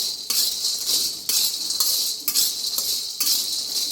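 Store-bought, already roasted makhana (fox nuts) being dry-roasted again in a pan at home, giving a steady, close rattle and clatter of light puffed seeds shifting over metal, with repeated stirring strokes and no talking.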